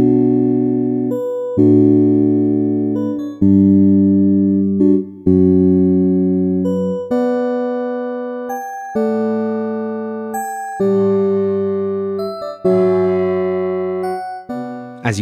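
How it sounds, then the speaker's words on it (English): A MODUS physical modelling synth is struck again and again with rising strength, ringing out as a sequence of pitched, bell-like tones that grow noisier and more resonant, each decaying before the next, loud and alone. "increasing the strength results in more noisy and resonant sounds, as more energy is transferred through the whole system"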